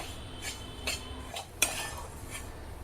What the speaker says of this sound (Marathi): आता पुन्हा एकदा छान मस्त असं खमंग भाजून घेऊया